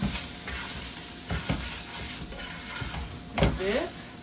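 Flour is stirred into a hot pan to make biscuit gravy, with a soft sizzle under a few scraping spoon strokes and a short squeaky scrape near the end.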